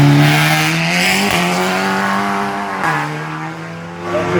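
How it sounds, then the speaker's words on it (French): A Seat Leon Supercopa race car launches at the start of a hill climb, its loud engine revving hard through rising and falling pitch sweeps with a brief shift break, close and alone with no talk. "Le leader de ce groupe A, avec Thomas Chavot et la Seat Leon Supercopa"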